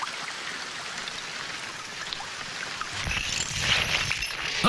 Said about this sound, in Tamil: நல்ல மழை பெய்யுதுல, தூங்கட்டுங்க.